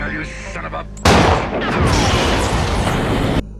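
A gunshot sets off an explosion in the 1975 film Jaws. A sudden loud blast cuts in after a quieter stretch, then a dense roar and rumble sustains for a couple of seconds before stopping abruptly.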